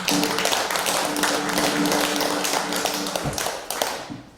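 A church congregation applauding together at a Wednesday worship service, a dense, steady patter of many hands that holds for several seconds before thinning out at the end.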